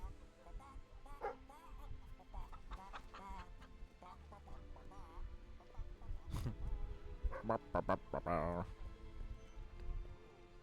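Chickens cluck in the Fable III video game, short bursts scattered through the clip amid game effects and background music, with someone talking over them.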